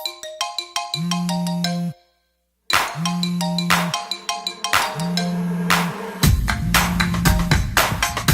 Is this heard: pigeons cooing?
no